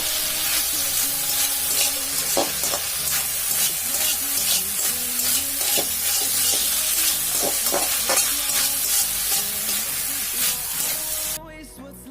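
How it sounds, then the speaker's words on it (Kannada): Baby corn Manchurian sizzles loudly in its reducing sauce over a high flame, with steady frying hiss and repeated scraping stirs of a spatula throughout, close and continuous with no talk. "ಇವಾಗ ಒಂಚೂರು ಫ್ಲೇಮ್ನ ಹೈ ಮಾಡ್ಕೊಳ್ಳಿ, ಯಾಕಂದರೆ ಅವಾಗ ಒಂದು ಚೆನ್ನಾಗಿ ಫ್ರೈ ಆಗಿ ಒಂದು ಫ್ಲೇವರ್ ಬರುತ್ತೆ ಅದಕ್ಕೆ."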